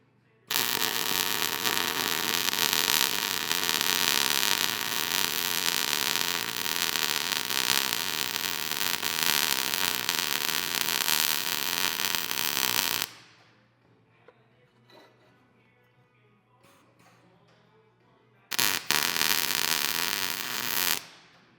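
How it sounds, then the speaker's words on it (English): Steady electric arc welding on a steel swing-out tire carrier, a loud continuous crackling buzz lasting about twelve seconds, then a quiet pause with small workshop noises before a brief second burst of welding. "They're not my smoothest welds, but I feel like they're probably plenty strong."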